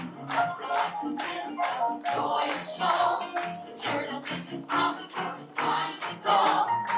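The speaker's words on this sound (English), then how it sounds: "Come on, everybody, clap your hands" The audience at the Hoop-Dee-Doo dinner show at Disney's Wilderness Lodge claps in unison, a steady beat of about two claps per second, close and fairly loud, with faint voices underneath.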